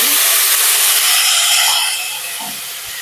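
Chopped tomatoes frying in a pan for tomato pachadi, a steady loud sizzling hiss that softens slightly toward the end, with no talking.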